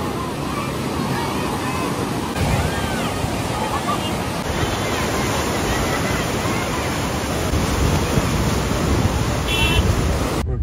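Heavy floodwater rushes through Kandahar city streets after intense rain, a loud broadband roar close by with steady churning.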